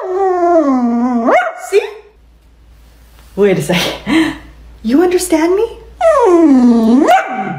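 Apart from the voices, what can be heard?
dog howling and barking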